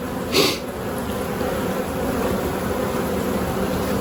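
Honeybees buzzing around a queen in a hive, a close, continuous droning hum with a brief louder swell near the start.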